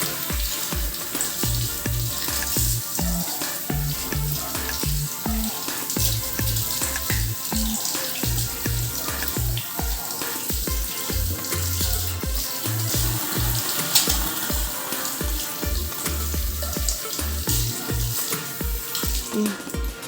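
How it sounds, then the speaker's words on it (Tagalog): Hands are rinsed under a running tap, producing a steady, even water hiss over a rhythmic musical beat that continues throughout. "banlawan ang mga kamay ng malinis na tubig"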